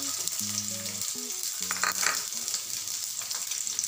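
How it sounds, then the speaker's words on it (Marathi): Onion sautés in hot oil for Marathi misal, a continuous crackling sizzle up close with light stirring scrapes, while faint tonal background music plays beneath. "आपण कांदा परतवून घेणार आहोत"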